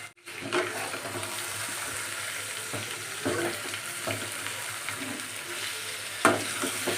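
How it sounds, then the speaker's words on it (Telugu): Spicy chicken pieces frying in a pan while being stirred, a steady close sizzle with occasional scraping stirs, no talking. "చికెన్ వేసేసుకొని ఒకసారి కిందికి పైకి కలిపేసుకోవాలి"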